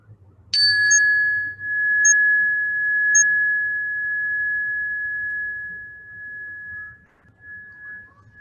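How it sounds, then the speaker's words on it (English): A meditation bell struck once, giving a clear bright ring that sustains and slowly fades over several seconds, with a couple of faint extra taps early on, in a quiet room. "noticing the sound of this bell"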